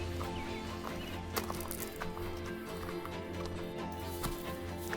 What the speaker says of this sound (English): I was walking the horse over